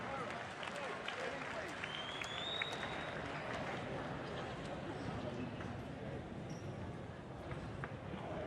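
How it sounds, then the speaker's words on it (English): A boxing arena crowd applauding the fighters after a stoppage, a steady wash of clapping and cheering under an announcer's amplified voice, with a whistle-like tone cutting through briefly. "let's have a round of applause, first of all, for our boxers"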